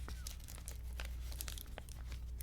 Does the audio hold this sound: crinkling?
yes